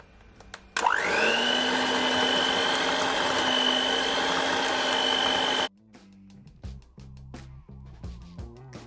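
An electric mixer whirs loudly and steadily through a Jamaican rum and raisin ice cream base for several seconds, then cuts off abruptly, followed by lighter clatter and knocks.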